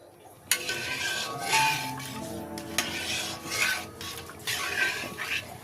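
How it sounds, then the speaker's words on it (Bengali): A spoon stirs milk with bay leaves and crushed cardamom in a pot, producing a series of close scraping and rubbing swishes with light metallic clinks, about four distinct strokes. "দুধটা একবার নেড়ে দিলাম একটা জাল দিয়ে ফুটিয়ে নেব"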